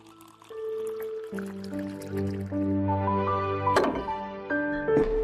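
Cold drinking water poured into a glass, a steady close fill with a tone that rises and shifts as the glass fills, with a few small splashes near the end.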